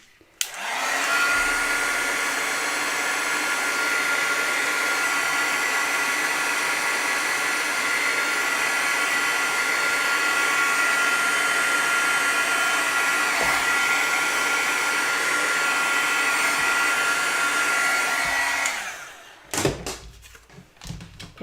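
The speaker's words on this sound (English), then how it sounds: "I'm gonna hit them with a heat gun a second." A heat gun blows hot air steadily for about eighteen seconds as a loud, even broadband rush, then cuts off, followed by a few brief knocks and handling sounds.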